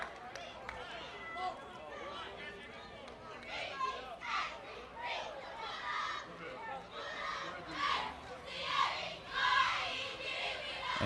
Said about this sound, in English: getting a cheer here from the Conyers cheerleaders